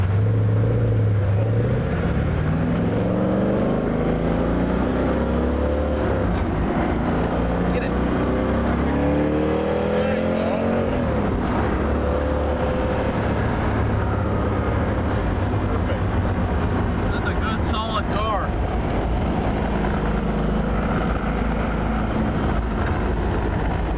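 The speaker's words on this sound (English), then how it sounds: "Going to take you on a little ride here in a 66 Corvette Roadster." Onboard ride in a 1966 Chevrolet Corvette Roadster with a four-speed: steady engine drone and wind noise throughout, rising and falling pitch through shifts in the first half, with someone talking over it.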